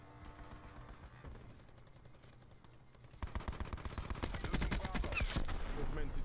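Automatic gunfire in Call of Duty: Black Ops 4 multiplayer starts faint and sparse, then swells after a few seconds into loud, rapid bursts of rifle fire, with brief speech underneath.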